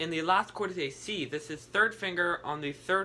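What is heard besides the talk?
None of the usual background noises is heard.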